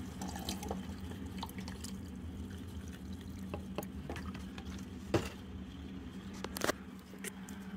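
Water is poured to top up a container in a home wind generator setup, with scattered splashes and drips over a low steady electrical hum.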